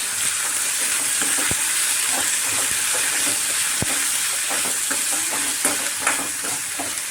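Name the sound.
cluster beans stirred into hot tempering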